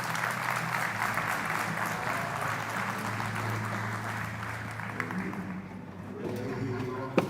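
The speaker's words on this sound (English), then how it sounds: "Please give him a round of applause as he makes his way up on stage." A farm show audience gives sustained applause as a guest walks up on stage, a dense, even clapping crowd that tapers slightly near the end with a faint voice beneath.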